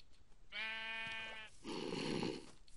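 Sheep bleating in Minecraft, two drawn-out bleats one after the other, clear and fairly close with no talking over them.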